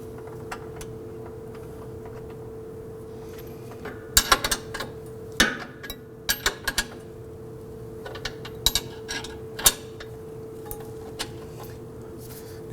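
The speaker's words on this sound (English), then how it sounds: "Run that nut down as far as I can here on the other side. Get my wrench on there." A wrench tightens a rear control arm nut on a 2005-2009 Subaru Legacy, giving faint, scattered metallic clicks and ticks in short irregular clusters against a quiet workshop hum.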